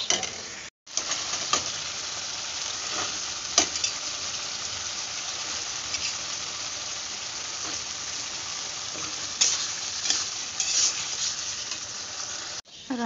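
A spoon stirs food frying in a pan in a home kitchen: a steady, close sizzle with scraping and clinking strokes throughout, broken by brief silent gaps near the start and end.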